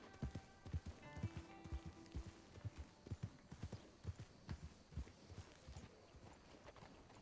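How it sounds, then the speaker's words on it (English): Steady clip-clop of a horse's hooves at a walking pace through a garden in Red Dead Redemption II, fairly close, with faint ambient background and no talking. "I'm just taking my horse through your garden, sir."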